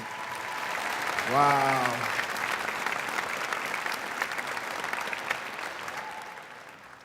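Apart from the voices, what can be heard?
audience applause for students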